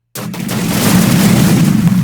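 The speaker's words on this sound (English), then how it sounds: "So I can make this a really fast explosion by doing this." A sped-up explosion sound effect edited in HitFilm bursts in abruptly after a brief silence, then holds as a loud, dense roaring rumble without fading for the rest of the moment.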